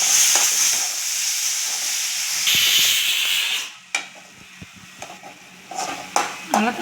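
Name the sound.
tomatoes being sautéed with onions in a pan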